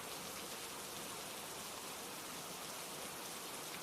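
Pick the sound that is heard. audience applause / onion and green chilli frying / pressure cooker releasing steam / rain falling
rain falling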